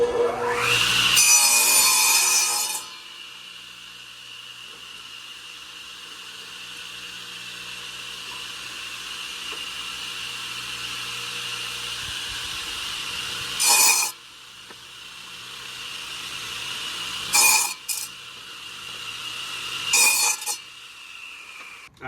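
A saw blade cuts a plywood bottom board for a beehive: a loud burst of cutting for about three seconds, then quiet, then three shorter, sharper cuts near the end.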